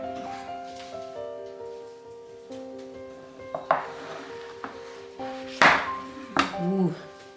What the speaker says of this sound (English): So let's go ahead and we'll take this out of the oven now.